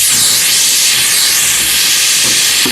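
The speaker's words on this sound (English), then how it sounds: "I'm now going to open the vent valve and the tire will drop down." Loud, steady air hissing rushes from an opened vent valve as the tire on a 1959 International B120 4x4 Travelall drops, one continuous close blast with no talk.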